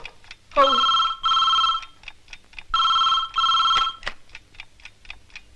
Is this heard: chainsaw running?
no